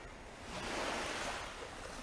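Sea waves washing ashore at Discovery Bay in Holetown at daybreak, a steady broadband surf that swells louder midway and then eases, close and continuous with no voices.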